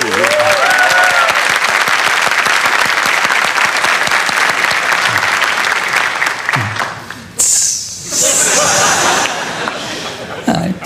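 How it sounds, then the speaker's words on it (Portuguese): Studio audience breaking into loud, sustained applause mixed with scattered chuckles, then thinning out after a few seconds as a voice cuts in over the tail of the clapping. "Parece um aplauso"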